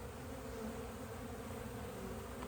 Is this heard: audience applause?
no